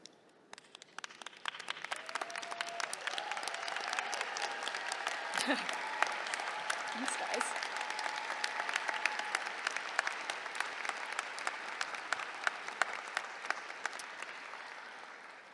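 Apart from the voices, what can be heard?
graduation ceremony audience applause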